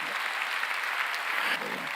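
Church congregation claps together during a sermon, a steady, fairly loud burst of many hands applauding with faint voices underneath.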